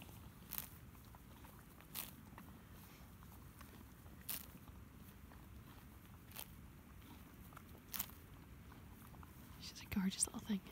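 A pony grazes on long grass, tearing and crunching mouthfuls in soft, regular bites about every two seconds. It is quiet and close, under faint whispered talk, with a brief burst of louder rustling at the end.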